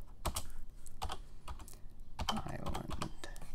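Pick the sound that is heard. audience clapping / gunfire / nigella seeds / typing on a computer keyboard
typing on a computer keyboard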